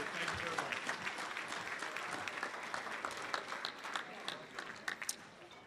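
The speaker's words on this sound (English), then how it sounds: "could we have a round of applause for the 2019 Honor Roll coaches" A crowd at a coaches hall of fame ceremony applauds steadily and densely throughout, with bright clapping that holds at a constant level, a few sharper individual claps standing out near the end.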